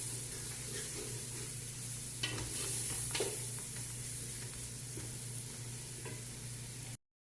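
Green chilli, tomato, red chilli and salt fry together in a pan for karhi pakora, giving a steady close sizzle with a few brief stirring scrapes, and no one speaks.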